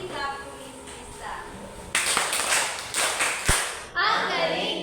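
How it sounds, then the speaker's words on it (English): A classroom full of students gives a burst of clapping during a group demonstration-teaching lesson. The clapping is loud and lasts about two seconds, with a teacher's voice talking before it and again after it. "Kindly please a galing-galing clap to Miss Lisa."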